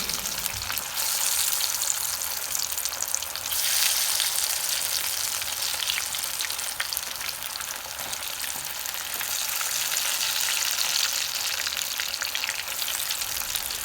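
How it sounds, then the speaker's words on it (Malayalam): Chicken 65 pieces deep-fry in hot coconut oil over a high flame, a loud, dense, unbroken bubbling sizzle held close for the whole stretch, no voices. "ഹൈ ഫ്ലെയിമിൽ വെളിച്ചെണ്ണ ചൂടായി വരുമ്പോൾ ചിക്കൻ പീസ് ഒട്ടിപ്പിടിക്കാതെ മാറ്റി മാറ്റി വേണം ഇട്ട് കൊടുക്കാൻ"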